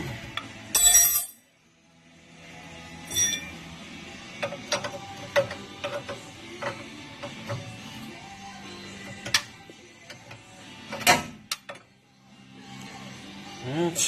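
A 3/4-inch wrench works at a tie rod end near its cotter pin on a 1971 Mustang during a suspension teardown, giving scattered close metallic clicks, ratcheting ticks and clinks of varying loudness with a few sharper clanks and brief pauses.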